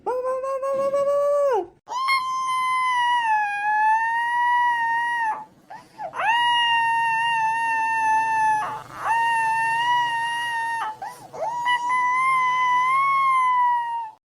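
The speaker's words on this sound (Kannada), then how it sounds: "ನಾಯಿ ಬಂತು ನಾಯಿ ಬಂತು" A dog howls in long, drawn-out wails, four sustained calls separated by brief pauses, close and loud, with no barking evident.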